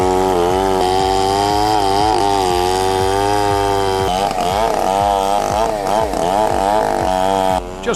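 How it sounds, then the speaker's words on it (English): A chainsaw roars loudly and continuously, its engine pitch dipping and surging as it bites through huge rounds of wood, close by with no talking. "He's wielding a chainsaw that probably weighs as much as a small child, cutting huge rounds of wood."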